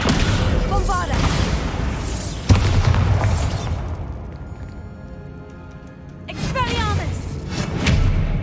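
Bombarda spell explosions in the Hogwarts Legacy video game, a sharp booming blast followed by rumbling bursts and magical crackle, interspersed with spoken spell names and a quieter lull midway.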